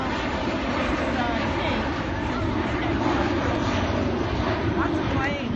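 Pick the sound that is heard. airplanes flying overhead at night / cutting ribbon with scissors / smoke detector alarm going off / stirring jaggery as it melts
airplanes flying overhead at night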